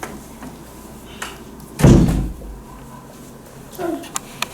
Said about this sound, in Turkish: Kapatıyoruz artık kapıyı.